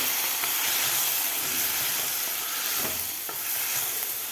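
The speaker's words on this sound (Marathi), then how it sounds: "दही घातल्यानंतर आपल्याला व्यवस्थित हलवायचं आहे याला" Curd stirred into frying green chilies for dahi mirchi, a loud, bright, continuous sizzle and hiss with a few soft spoon scrapes, heard close up with no voices.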